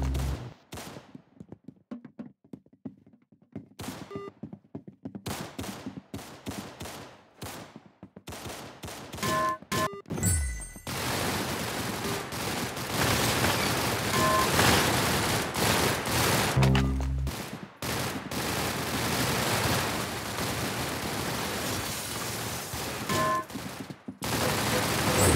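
Gunfire from the Roblox game Arsenal: sparse sharp shots open, then dense, sustained automatic fire with bursts and game sound effects carries on loudly for most of the stretch.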